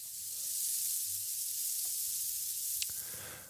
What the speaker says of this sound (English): let's get sizzling.